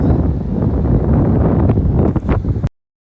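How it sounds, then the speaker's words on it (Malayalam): Heavy wind outdoors in London roars and buffets the microphone in a constant loud rush, no rain, then cuts off abruptly. "നല്ല കാറ്റ്, മഴയില്ല."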